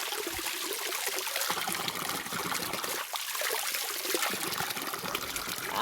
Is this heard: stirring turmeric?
no